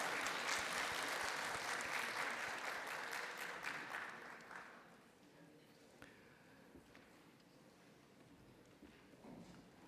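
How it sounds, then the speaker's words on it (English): Dense applause from a conference audience for a panel fills the first few seconds, then fades into scattered claps and quieter room noise. "a round of applause to our panelists"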